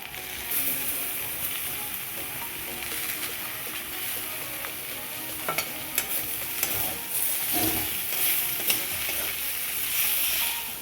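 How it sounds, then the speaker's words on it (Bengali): Chopped onion and tomato frying in a pan sizzle steadily up close, with the scrape and clatter of stirring throughout. "পেঁয়াজ ভাজা হয়ে এসছে, এবার এতে দেবো টমেটো কুচি।"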